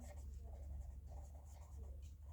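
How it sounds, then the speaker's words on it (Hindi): Writing on a classroom board, soft scratchy strokes repeating steadily against a low hum in a quiet room, faint and continuous. "मैं यहाँ पे लिखता हूँ पहले मीन मोड एंड"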